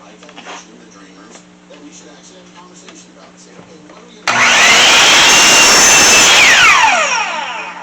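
A power saw makes a 45-degree cut across the long end of a wooden board for a custom planter, starting abruptly partway through as a loud, steady whine that holds to the end, with quiet workshop sounds before it.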